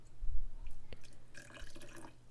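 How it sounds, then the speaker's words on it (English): Spinach water drips and trickles into homemade baby food in short, soft splashes, close by and quiet, with no voices over it. "Let's add more spinach water."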